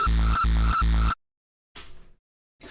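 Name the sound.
hardstyle kick drum sample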